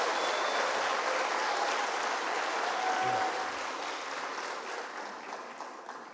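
Scattered, somewhat subdued audience clapping at a church gathering, a steady patter that slowly thins out over several seconds.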